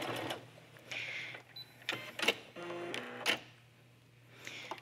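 A sewing machine stitches the end of a sweatshirt hood for a cosplay garment, running in short, quiet bursts of rapid needle clatter separated by pauses, close and with no talking.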